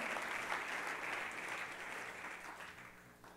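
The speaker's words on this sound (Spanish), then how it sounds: "Dale fuerte el aplauso y celebremos" A church congregation at a Christian service applauds, a soft, distant wash of many hands clapping that slowly fades over a few seconds, quiet and without voices.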